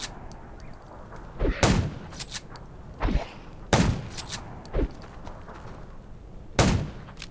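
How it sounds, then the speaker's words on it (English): Several sharp, booming gunshots in the video game Undawn ring out at irregular intervals, each with a short echoing tail, against a quiet background. "Gunshots will attract more."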